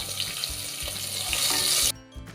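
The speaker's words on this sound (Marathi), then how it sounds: "ते सुद्धा आपण घातलेले आहेत आणि परतून घेऊया" Chopped green chillies and spices sauté in a pan for a quick veg pulao, giving a dense, steady sizzle with low stirring thumps that cuts off abruptly near the end, leaving a few faint knocks.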